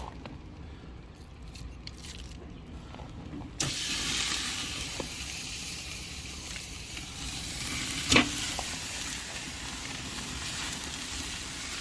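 Food sizzling on a charcoal grill heaped with plenty of charcoal, a close, steady crackling hiss that swells suddenly as it goes on, with one brief sharp pop midway.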